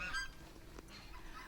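A flock of ducks and chickens on the street near a pig farm outside Ussuriysk, one loud nasal honk ringing out briefly among the fowl, close and alone against faint background noise.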